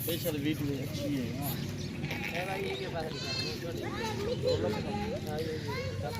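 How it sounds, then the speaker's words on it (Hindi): Goats, a buck and a doe, bleat repeatedly nearby at a goat farm, wavering cries over a busy background with people talking. "ये बकरा है और ये बकरी है।"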